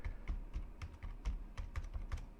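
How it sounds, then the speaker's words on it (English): Computer keyboard typing in a retail store billing form: a steady run of close, crisp keystroke clicks with short irregular gaps, alone with no voices. "I want to type the bill number"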